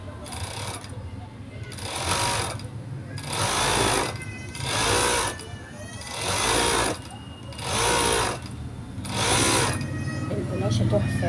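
An overlock machine sergers the edges of light, airy fabric for a Syrian-style hijab bandana, running in loud buzzing bursts of about a second each with short pauses between, close by.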